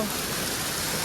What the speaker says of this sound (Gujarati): વરસાદ તો જો